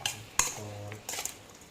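Utensils toss and clink through a grilled pork nam tok salad, giving sharp metallic taps and scraping stirs in a short irregular burst, close up with no talk.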